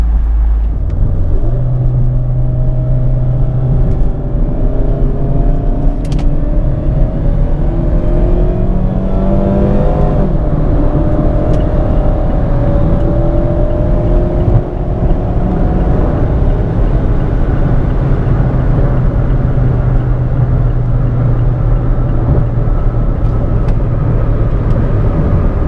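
Mazda MX-5 RF with a torque-converter automatic accelerating hard, its engine note rising steadily and stepping down in pitch at each upshift, loud and continuous with road rumble throughout and no talking.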